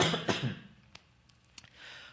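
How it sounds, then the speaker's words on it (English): A single close cough at the start, followed by a couple of faint clicks and quiet room noise. "Excuse me, I got a cough."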